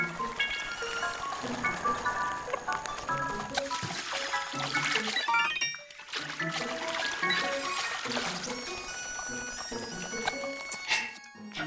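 A waterfall in The Legend of Zelda: Breath of the Wild pours and splashes steadily throughout, mixed with layered game music tones, with no voice heard.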